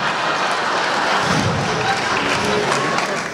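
Loud, dense audience applause with crowd cheering at a live cabaret festival show in Modena, a steady roar of clapping filling the room without pause.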